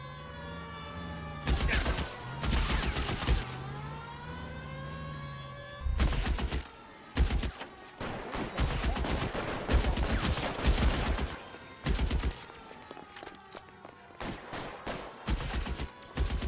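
Gunfire in L.A. Noire, with repeated loud bursts and volleys of shots in clusters, mixed with a wailing police siren that rises and falls in the background.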